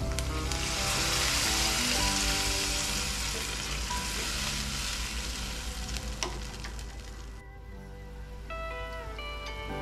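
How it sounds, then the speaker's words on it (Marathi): Water with spices such as ajwain and chopped coriander comes to a boil in a pan for Maharashtrian pitla, giving a steady, loud bubbling sizzle throughout, with a brief clink near the end and no talking. "हे बघा उकळी आलेली आहे।"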